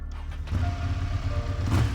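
A car engine starting in a video game, set deep inside a dark tunnel, turning over with a low rumble that settles into a steady idle, loud and close with no talk.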